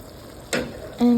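Water hitting a hot frying pan on high flame, a sudden hiss bursting in midway and then settling into a loud, sustained sizzle.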